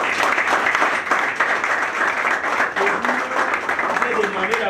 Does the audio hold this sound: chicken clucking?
no